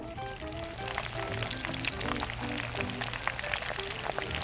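Vegetables added to shrimp frying in oil for garlic gambas al ajillo, a steady crackling sizzle throughout with soft background music.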